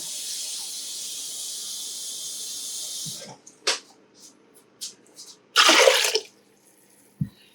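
Water pours into a pot of keto stuffed peppers in a kitchen as a steady hiss for about three seconds, followed by light clinks and a short burst of spattering.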